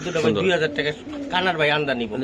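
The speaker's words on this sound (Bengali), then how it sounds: "সুন্দর কবুতর" Racing high-flyer pigeons coo in soft, rolling bursts close by, mixed with people talking over them throughout.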